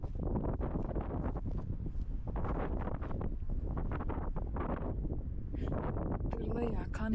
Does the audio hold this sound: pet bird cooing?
no